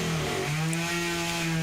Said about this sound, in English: deciding to cut down trees with a chainsaw